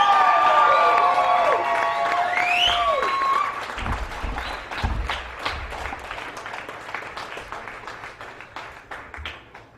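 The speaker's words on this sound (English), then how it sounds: "Big round of applause for Rebecca, everybody" A live audience gives a big round of applause with cheers and whoops, dense clapping at first and then thinning into scattered claps as the noise fades.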